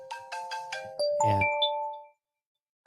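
Phone ringtone for an incoming call: a few short chiming notes followed by a brighter melodic jingle that rings out and fades into silence, close and clear.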